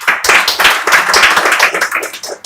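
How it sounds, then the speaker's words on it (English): An audience at a national consultative meeting on women's economic empowerment applauds after a speech, a loud, dense burst of many hands clapping close by, sustained without pause. "Thank you for clapping for me"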